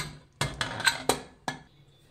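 A few sharp metallic clanks and clatters as the lid of a cooled pressure cooker holding chicken biryani is handled and opened, spaced irregularly with short pauses between.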